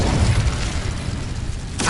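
A spell-cast fire burst in a wizarding video game, a broad rumbling whoosh that stays loud and steady for two seconds with a bright flare near the end.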